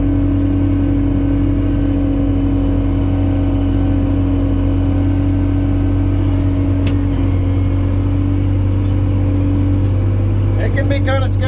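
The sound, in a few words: tractor pulling a scraper while spreading fill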